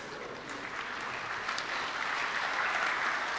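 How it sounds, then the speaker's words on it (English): Steady applause from an audience at a Hare Krishna lecture, a dense even patter of many hands clapping that carries on without a break and without speech. "I like the applause, but it's not the end."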